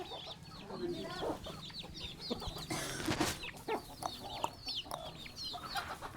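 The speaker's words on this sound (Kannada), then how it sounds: "ಇದ್ಯಾರ್ದ ಈ ಹುಂಜ?" A rooster clucking and calling close by amid other chickens, with repeated short clucks running throughout alongside a brief louder burst of farmyard noise.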